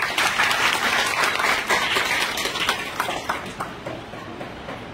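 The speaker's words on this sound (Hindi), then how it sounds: "एक बार मैं चाहूंगा दिल से उनके लिए तालियां हों।" Audience applause at an RCM mega celebration event in Dehradun, a steady wash of many hands clapping that holds loud through most of the stretch and thins slightly toward the end.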